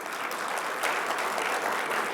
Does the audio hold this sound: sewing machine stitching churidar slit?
no